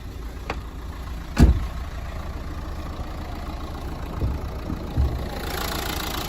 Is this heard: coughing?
no